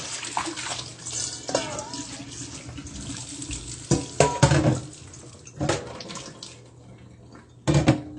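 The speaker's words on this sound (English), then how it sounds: "you make sure you rinse it out again" Tap water runs in bursts over a clean sieve basket during a kitchen rinse, splashing loudly several times with quieter running water between, close to the microphone.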